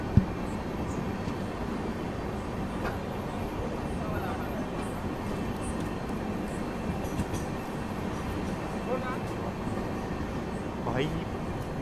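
A train pulling into Indara Junction railway station at night: steady rumbling rail noise carries on throughout at moderate level, with faint voices and station bustle mixed in and a brief higher squeal near the end.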